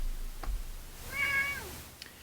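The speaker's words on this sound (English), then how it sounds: "Wonder what the cat wants." A house cat gives a single clear meow at moderate distance against a quiet room with faint background noise, plus a couple of small knocks nearby.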